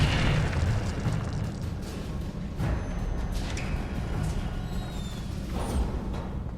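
A fire spell cast in Hogwarts Legacy bursts with a loud, sustained whooshing roar that rolls on for several seconds, swelling again near the middle and end, with no talk over it.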